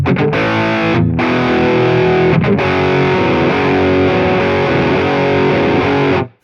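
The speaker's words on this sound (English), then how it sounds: "I will turn the delay on each channel. You'll see how this again has that that faux double track kind of sound." Distorted electric guitar through a stereo rig with delay running on each channel, giving a subtle doubled, wide sound; sustained loud chords ring steadily with a couple of brief breaks before cutting off at the end.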